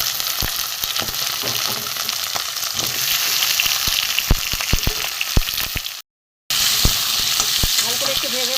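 Taro and potatoes fry with ginger, cumin and coriander powder in a pan for rohu fish curry, giving a loud, continuous close sizzle with frequent sharp spatula taps and scrapes, briefly cut off partway before resuming.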